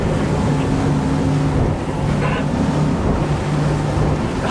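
A Saxdor 320 GTO motorboat running through ocean waves, with a loud, continuous engine drone under heavy wind and hull-slapping water rush, steady and close throughout.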